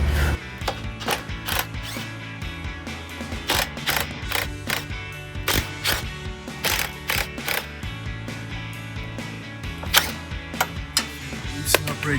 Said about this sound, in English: 16mm socket, and there's 2 bolts on the outside, and then we'll take these 2 off on the outside